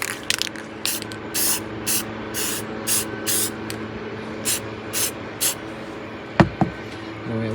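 Primer-plus-paint is sprayed onto a Revell 1:600 plastic model of the 1955 S.S. United States in about nine short, close hissing bursts, followed by a couple of sharp knocks near the end.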